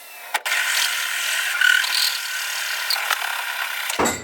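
Power drill boring through the steel body of a 1961 Mercury Comet, a steady close whining grind that runs for several seconds, catches briefly, then stops abruptly as the bit breaks through.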